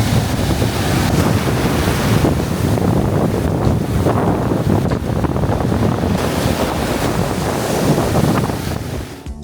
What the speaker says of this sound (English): this wind was so strong and annoying